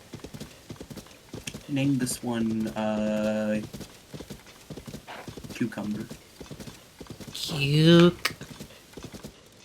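A horse in Zelda: Tears of the Kingdom clip-clops and gives two loud, drawn-out neighs, with hoofbeats between them and people talking over the game sounds.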